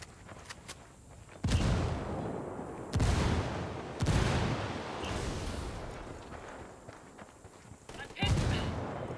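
Loud gunfire and booming blasts, including a frag grenade explosion, in the video game Ghost Recon Wildlands: several heavy bursts at irregular intervals, each followed by a rumbling tail, with quick sharp shots at the start.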